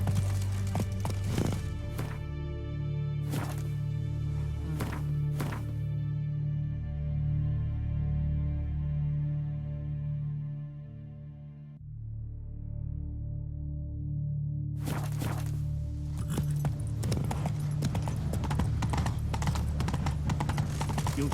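Hooves of the horse Roach clatter in The Witcher 3, bursts of clip-clop hoofbeats at the start and again later, with a calmer stretch of game music in between.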